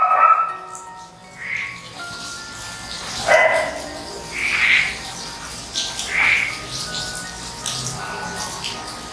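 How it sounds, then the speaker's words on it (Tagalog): Several dogs bark in repeated bursts at a house, moderately close, with irregular yips between louder barks over a steady background hum. "Hindi tumitigil tumahol yung mga aso mo."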